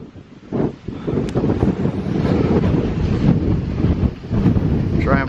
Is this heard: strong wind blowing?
yes